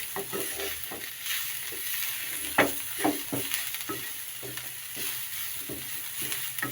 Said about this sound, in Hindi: 1-2 सेकंड के लिए हम इसे भूनेंगे ताकि मसालों का कच्चापन दूर हो जाए।